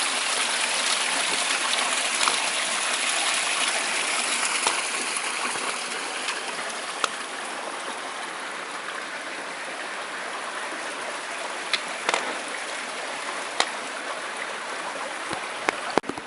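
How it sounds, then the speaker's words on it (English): A canyon rapid reduced to a trickle of water, a continuous hissing splash of flowing stream with a few faint clicks over it, steady and fairly close throughout. "It's essentially a trickle here now."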